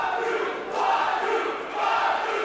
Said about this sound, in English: Crowd getting behind Jacob Fatu here in the battlefield.